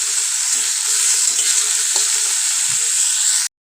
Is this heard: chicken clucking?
no